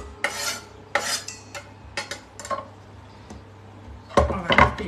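Small diced vegetables tossed together in a bowl with a utensil, giving a series of brisk scraping, clattering strokes close by, bunched into bursts with short pauses and a louder flurry at the end.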